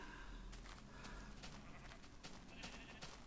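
Blocky sheep bleating in the video game Minecraft, a few short nasal bleats over a steady background of game ambience, moderately loud with no talking.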